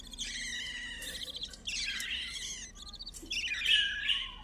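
Budgerigar lovebirds chirping in a cage, bright rapid tweets and warbling calls coming in several overlapping bursts, fairly close and moderately loud.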